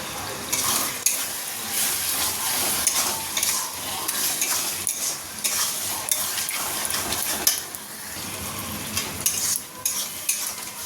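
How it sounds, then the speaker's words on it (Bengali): A spice paste of turmeric, chili powder and salt sautés in a pan, sizzling loudly while a spatula scrapes and stirs it in quick, irregular strokes, with occasional metallic clinks. "মশলাটা খুব ভালোভাবে কষানো হয়ে গেছে"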